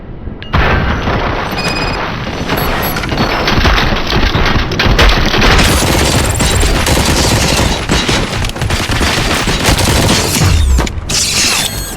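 Loud, dense gunfire fills a RoboCop video game battle, with continuous booming shots and mechanical clatter running without pause for about twelve seconds.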